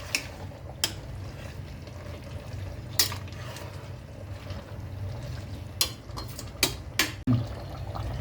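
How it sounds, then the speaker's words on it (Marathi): Vegetable curry with hot water added boils in a pot, giving a steady low bubbling that runs throughout, broken by a few sharp clinks of a utensil against the pot. "इथे भाजी आपली छान उकळती आहे"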